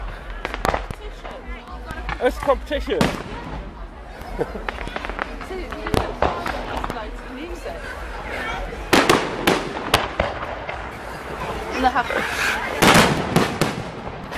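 Fireworks burst in sharp cracks and booms at a multi-team fireworks competition, some far off and others closer, spread irregularly throughout while people chat nearby.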